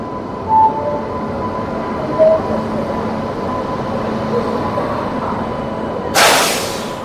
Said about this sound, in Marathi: तर सध्या रेल्वेचं आगमन झालेलं आहे इथं